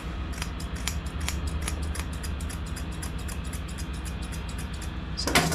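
Scissors snip steadily through a Cockapoo's head fur during grooming, giving a rapid, regular run of crisp cuts close by over a constant background hum.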